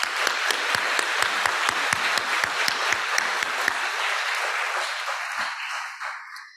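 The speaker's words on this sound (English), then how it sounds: "let's give them a nice round of applause" Audience applauding award recipients at an annual meeting, with distinct hand claps standing out from a full round that fades out near the end.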